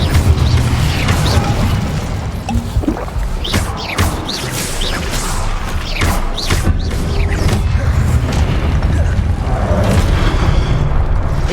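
Repeated Incendio fire spells are cast during Hogwarts Legacy combat: a steady stream of fiery bursts, booms and crackling impacts, loud and dense throughout with no pause.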